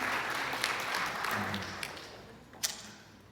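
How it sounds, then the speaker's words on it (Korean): Audience applause at a youth leaders' forum talk in Jeju, a steady wash of clapping from a seated crowd throughout, moderately loud, with brief speech-like sounds mixed in. "이런 때 박수도 치는 건데"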